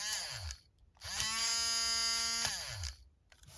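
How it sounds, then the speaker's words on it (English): A handheld Badger airbrush mixer stirring model car paint gives a short whir at the start, then a steady high buzzing run of about a second and a half, and winds down at the end. It sounds close, with no speech. "I have my Badger airbrush mixer."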